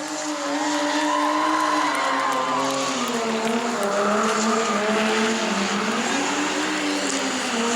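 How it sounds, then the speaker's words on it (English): Race car doing a burnout at a New Smyrna burnout contest, tires squealing and scraping on the track as the engine roars steadily and loudly throughout, with a crowd-level din behind it. "He's scraping up the track, burning it down, but he's still moving"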